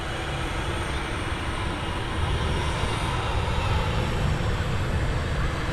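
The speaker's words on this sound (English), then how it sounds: "EasyJet A320 departing" An EasyJet Airbus A320 departing Manchester Airport gives a steady, broad engine roar with a deep rumbling low end, continuous and fairly distant throughout, with no talk over it.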